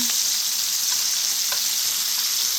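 Garlic and onions sautéing in a hot pan, giving a steady close sizzle with a few faint stirring clicks, no voices.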